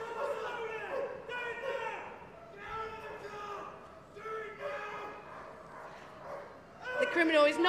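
A police dog barks repeatedly at a West Midlands police dog display: bursts of barking with short gaps, moderately close, while people talk over it.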